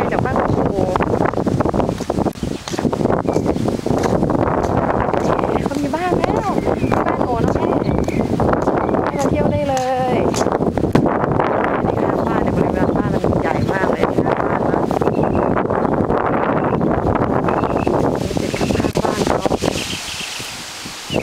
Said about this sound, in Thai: ลมก็พัดแรงด้วย